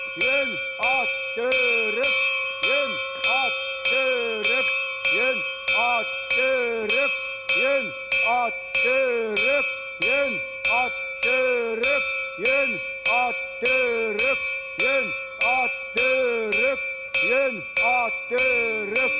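In the 1994 film Satantango, a bell rings in a steady repeating pattern alongside a voice calling out loudly in bursts, both fairly close and continuous throughout.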